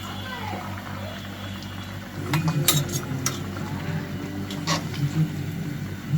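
Beef curry being stirred in a metal pot after potatoes go in, with a spoon scraping and clinking against the pot in a steady run of close, moderate clatter over a low background hum.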